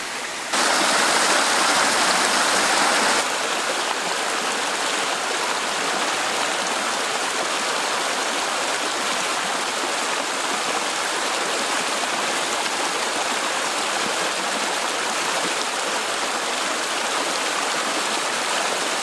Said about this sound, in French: Et là on est tombé sur une rivière qui va nous permettre de remplir nos gourdes parce qu'on commence à manquer d'eau.